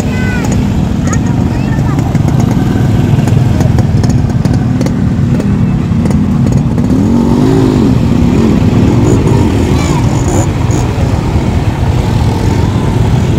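Motorcycles cross a bridge one at a time near Teluk Bayu beach, a steady loud engine drone running throughout with a swelling pass near the middle, while people talk over it.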